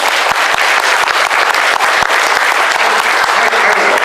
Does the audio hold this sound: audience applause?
yes